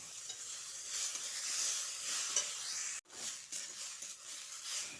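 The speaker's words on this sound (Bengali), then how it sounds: "চালগুলো দিয়ে মিডিয়াম ফ্লেমে অনবরত নেড়েচেড়ে কিছুক্ষণ ভেজে নিতে হবে" Washed Gobindobhog rice fries in ghee over a medium flame while being stirred constantly, a close, bright sizzling hiss with soft stirring scrapes, briefly cutting out for a moment midway before resuming.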